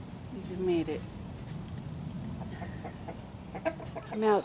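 Chickens in a backyard coop give a few scattered clucks and squawks, moderately close, with soft vocal bursts near the start and again toward the end over a low background rumble.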